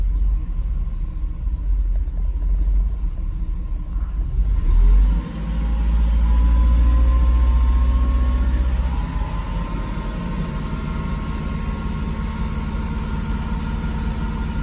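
A car engine idles steadily with a low rumble during a Sea Foam treatment and Italian tune-up, briefly swelling louder mid-clip before settling back to an even running drone.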